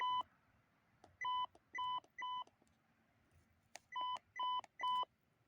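Short electronic beeps from a Quasar F3 metal detector sound in two groups of four, each a steady clear tone with brief gaps, over a faint low background hum.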